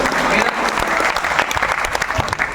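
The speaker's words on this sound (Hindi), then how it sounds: "तालियों के साथ सब लोग जो है" A crowd at a mushaira and kavi sammelan in Lucknow bursts into loud, close applause that rolls on steadily throughout, with a few voices audible within the clapping.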